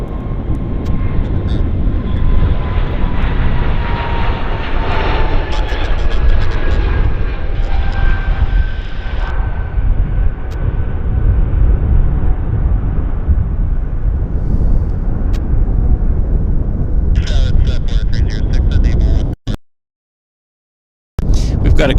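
Bombardier C Series jet airliner rolling for takeoff at Vancouver airport in strong outflow wind, a loud, sustained engine roar with whining tones drifting downward, wind buffeting the microphone, before cutting out abruptly near the end.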